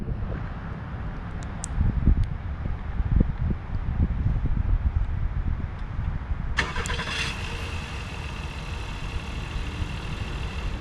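A 2022 Acura MDX engine is remote started with the key fob outdoors, its rumble and idle building midway and continuing steadily under gusty wind noise, with no talking.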